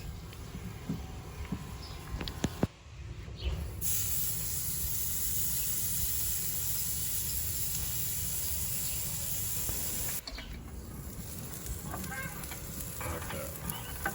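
A charcoal fire flares up inside a Big Green Egg grill, readied for Wagyu bavette, giving a steady close hiss and crackle that dips briefly twice and then carries on without voices.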